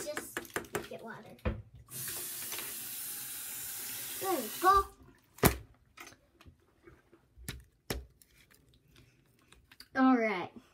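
A tap runs for about two seconds, a steady hiss of water filling into a container nearby, among scattered clicks and handling knocks, with children's voices talking before and after.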